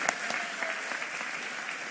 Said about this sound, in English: can we give another round of applause for our mayor on this 100th day